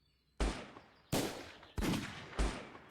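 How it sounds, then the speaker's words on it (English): Four loud, sharp gunshots in a VR game, evenly spaced about two thirds of a second apart, each a sudden blast with a short ringing tail, with no talk. "It's freaking gunshots."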